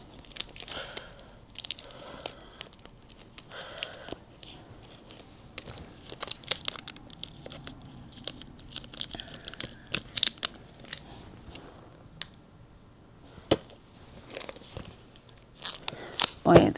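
Several sharp tearing and crinkling bursts, close by, scattered irregularly among quieter rustling and handling noises.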